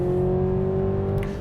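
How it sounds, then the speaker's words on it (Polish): Mercedes GLC 300e hybrid SUV engine accelerating hard during a timed sprint, a steady droning hum with a strong sustained tone and rumbling low end, close and continuous, with a faint whir near the end. "I nadal brzydko brzmi ten silnik."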